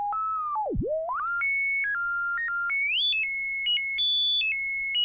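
A bright modular synth oscillator tone steps between pitches, with a sharp downward swoop early on, then holds steady stair-stepped notes, loud and alone.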